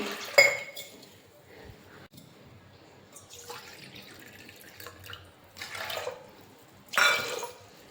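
Water poured from a vessel into a pressure cooker holding dal, several short splashing bursts with pauses between them, close by and fairly clear, with light clinks of metal.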